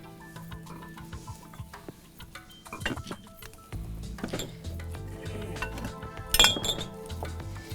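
A plate is set down for chicken keema kebabs amid several clinks and knocks of dishes and utensils, with a louder ceramic clatter near the end over faint kitchen background.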